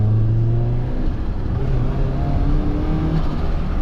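Turbocharged BMW E36 with an M44 engine revving hard, a loud close mid-range engine drone rising and falling with throttle, with no talk over it.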